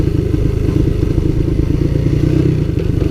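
A Coolster Mountop 125 ATV rumbles steadily while being ridden, its low engine drone continuous and close with clattering thumps and scrapes from the rough ride mixed in.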